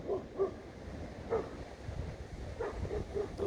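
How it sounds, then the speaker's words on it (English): A dog barks in short bursts outdoors by a small garden orchard, the barks fairly faint and spaced irregularly over light wind noise. "Apologies for the dog barking"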